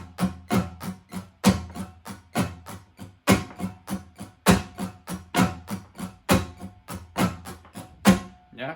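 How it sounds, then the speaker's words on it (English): Muted strings on an acoustic guitar are strummed in a percussive, chunky rhythm, about thirty close, dry hits with clear accented beats in a repeating pattern. No chords ring out. "I'm not going to play the chord, I'm just going to mute the strings."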